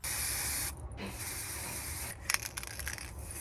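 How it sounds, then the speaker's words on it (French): A can of gold spray paint hisses in a steady close burst, breaks off briefly, then sprays again, with light clicks and taps near the end. "Ça, je le peins. J'ai la bombe dorée."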